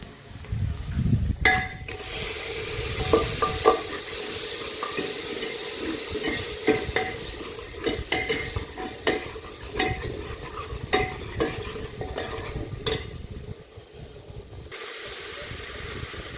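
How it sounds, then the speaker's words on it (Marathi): Onion paste frying in a pan for a chicken curry, with a steady loud sizzle and hiss and repeated scraping strokes of a spoon stirring it. The sound is close and continuous and no one speaks. "आता कांदा तळून झालेला आहे."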